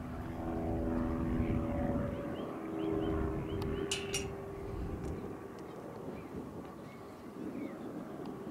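French-designed Karei model glider, under 1400 grams with a 2.5 metre span, flying in light wind: a faint airy whoosh with a distant propeller-like hum and wind buffeting the microphone.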